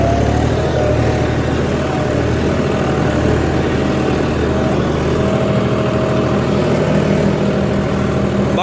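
A John Deere 5310 GearPro tractor engine runs with a steady, loud, close diesel drone and a constant low rumble, with no break throughout.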